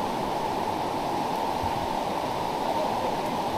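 A river in Misamis Occidental flows with a steady, even rush of water, constant and fairly loud with no pauses or distinct splashes.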